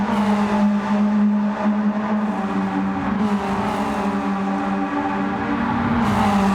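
Racing car engines in Gran Turismo 7 drone loud and close with a steady, tonal whine that rises and falls as the cars hold speed together, with other engines layered in throughout.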